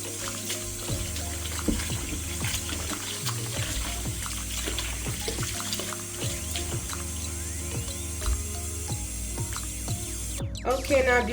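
Beef is rinsed with water and lemon in a sink, a continuous splashing flow with repeated clicks and knocks of handling, close by, ending in a brief louder rush.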